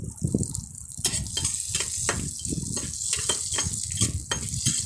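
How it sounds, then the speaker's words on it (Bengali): Green chillies fry with salt in refined oil in a pan, a close, busy sizzle punctuated by rhythmic spatula scrapes and stirring strokes throughout. "আমরা লঙ্কাটা একটু নুন দিয়ে ভেজে নিচ্ছি"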